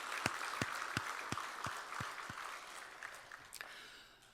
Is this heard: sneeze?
no